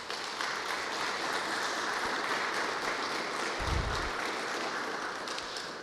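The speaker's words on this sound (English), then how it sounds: "Let's give our first responders and the elected officials a round of applause." An outdoor remembrance day crowd gives first responders and elected officials a round of applause, a steady, even wash of distant clapping that holds at the same level throughout.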